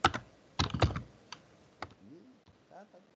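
Someone types on a computer keyboard, close and fairly quiet: a quick burst of clustered keystrokes at first, then a few sparse, isolated clicks.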